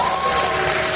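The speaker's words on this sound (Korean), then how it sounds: "박수 한번 주세요." A concert audience applauds and cheers in a loud, dense, continuous wash of clapping and crowd noise.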